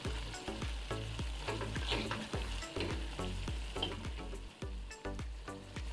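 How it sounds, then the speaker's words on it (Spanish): Chicken pieces fry in their own rendered fat, giving a steady, dense sizzle with crackling pops and a quick run of rhythmic thumps, close and loud throughout with no voices. "ya se está sofriendo, está quedando las piezas de pollo"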